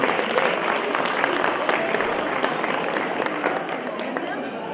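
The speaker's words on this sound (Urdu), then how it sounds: "تالیاں ان کے لیے خاص طور پر" An audience at an Urdu poetry mushaira breaks into steady, dense clapping that carries on throughout, slightly distant and fading a little toward the end.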